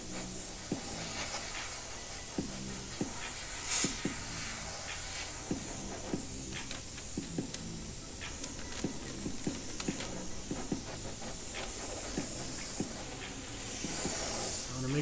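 An airbrush sprays Createx Candy2.0 paint onto metal as a steady, close hiss, broken by a soft rhythmic tapping that recurs throughout.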